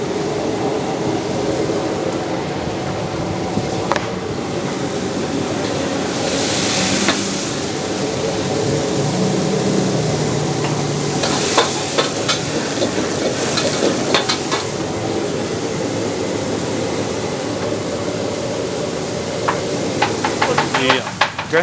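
Bean sprouts stir-fried in a hot pan, a steady sizzle and hiss with clanks from stirring, and people talking over the cooking.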